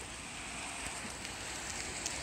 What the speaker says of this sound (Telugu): ఫుల్ రెయిన్ పడుతోంది